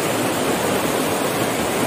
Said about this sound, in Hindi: बहुत तेज है पानी का बहाव।